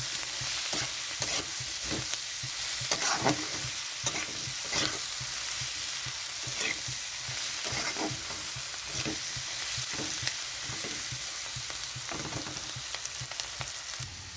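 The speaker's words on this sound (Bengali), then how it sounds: "মশলাটা ভেজে নেব।" Masala with tomato, chilli powder and other ground spices fries in a pan for lote fish bharta, a steady close sizzle broken by repeated scraping stirs of a spatula, with no talking.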